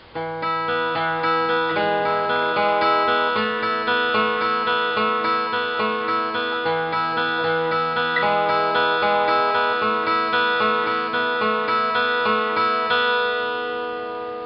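An acoustic guitar plays a steady fingerpicked pattern, bass notes alternating with ringing open strings, continuous and clear throughout.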